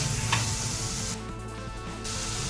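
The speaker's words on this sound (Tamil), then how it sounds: "வெங்காயம் வந்து கொஞ்சம் நல்லா வதங்கிட்டுருக்கு" Onions with salt sautéing in a pan, a steady close sizzle that runs unbroken with a brief dip partway through.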